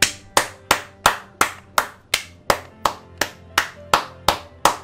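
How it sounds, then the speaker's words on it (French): One person claps hands in a slow, even rhythm, about fourteen sharp, close claps. "Applaudissez tous avec moi les amis."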